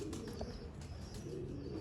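Sialkoti Zeera pigeons give a faint, continuous low cooing with a couple of soft chirps, close and quiet, with no one speaking.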